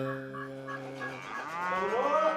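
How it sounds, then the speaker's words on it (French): A dairy cow at a small dairy farm in northern India gives a long, drawn-out moo, loud and close, with the pitch bending upward near the end and no talking. "un petit élevage de vaches laitières"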